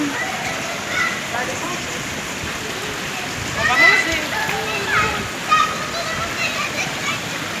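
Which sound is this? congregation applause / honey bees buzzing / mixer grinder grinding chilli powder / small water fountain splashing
small water fountain splashing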